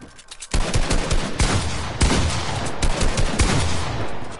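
Shotgun blasts from a clan wars video game fire in quick succession over dense, loud battle noise, each boom sharp and heavy, with several more shots and clashing effects layered throughout.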